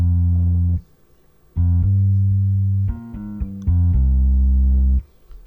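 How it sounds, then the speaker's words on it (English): Trillion Trilogy Old School acoustic finger bass sample playing alone: deep, round plucked bass notes in a short phrase with sustained tones and brief gaps, clean and upfront. "the Trilogy Old School finger bass"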